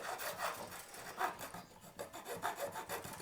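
A nut file rasps across a bass guitar nut in short, repeated back-and-forth strokes, close and fairly quiet, with a steady scraping rhythm of about six or seven passes.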